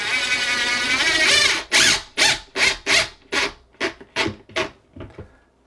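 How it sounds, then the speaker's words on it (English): A power drill drives 2-inch cabinet screws through a bookcase into wall studs, with a sustained whir followed by about nine short pulsed bursts that fade out as the screw seats. "gonna use 2-inch cabinet screws to get into the studs, and then I'll attach it with the screws that they give you to go into the bookcase."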